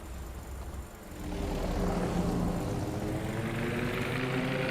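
Torpedo bomber aircraft in World of Warships, a steady engine drone that swells after the first second and holds as a broad, continuous roar, alone without talk.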